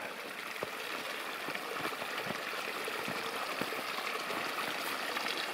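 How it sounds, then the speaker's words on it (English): Swamp stream water pours over the top of a buried culvert tube during a snowstorm, dropping level to level; a steady, close rushing trickle with gurgles runs throughout, with no talk. "There's actually a tube under there, but it's too much water, so it's coming over the top."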